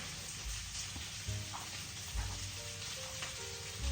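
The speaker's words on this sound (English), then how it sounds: "got my potatoes frying in the background, so that's what the sizzling is" Steady crackling sizzle of potatoes frying in a pan, continuous and moderately close, with a few low clunks and soft kitchen noises underneath.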